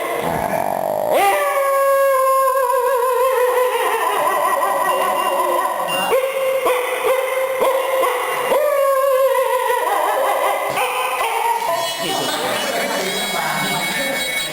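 Dogs howling in long, wavering, drawn-out tones, with steady howls filling the whole stretch and occasional yips breaking in; the sound may be a person imitating the dogs.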